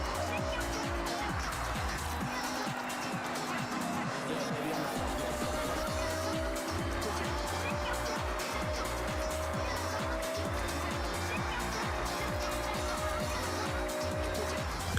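DeLorean racing in a video game, its engine droning loud and steady with rhythmic pulsing and tire noise throughout, under a continuous layer of game sound and voices.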